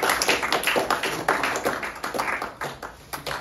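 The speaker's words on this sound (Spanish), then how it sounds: "Un aplauso" A classroom group claps together in a quick burst of applause, a dense run of sharp, close hand claps with no talking.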